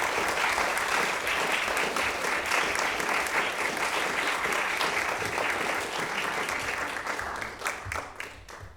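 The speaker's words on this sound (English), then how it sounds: "I just would like to give our performers another round of applause for that beautiful program" Sustained applause from a concert audience at a new music salon greets the performers after their program. It stays full and even, then thins and tapers off near the end.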